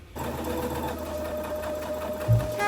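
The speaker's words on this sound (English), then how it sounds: "Okay, once the waist seam is pinned together, you can go and sew it." A sewing machine runs steadily, stitching the waist seam that joins a dress bodice to its skirt, a continuous close whir that lasts the whole stretch with a slight bump near the end.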